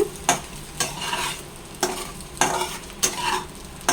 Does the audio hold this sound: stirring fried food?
yes